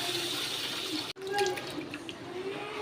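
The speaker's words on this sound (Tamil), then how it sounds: "தண்ணி ஊற்றி நல்லா ஒரு அஞ்சு தடவை நல்லா அலசிடுங்க" Water pours and splashes over rice being rinsed in a bowl for idli batter, a close, steady gushing with a brief break partway through.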